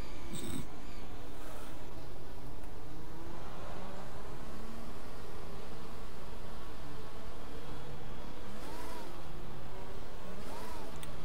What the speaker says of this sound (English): Don't you dare rev at me.